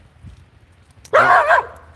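Dogs outdoors in snow give a single loud, close bark-like burst of about half a second, following a stretch of quiet.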